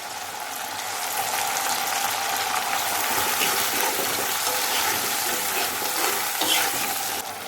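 Ginger garlic paste hits hot oil with chicken curry cooking in a pan, giving a loud, steady sizzle and bubbling frying sound that carries on throughout, close by and without talk.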